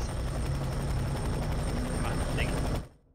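Helicopter rotor and engine drone in the F.E.A.R. 3 video game, loud and steady, then cutting off abruptly near the end.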